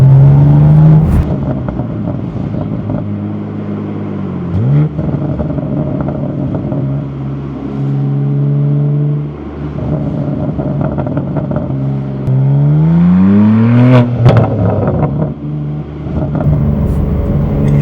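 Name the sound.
BMW G87 M2 with AWE SwitchPath exhaust revving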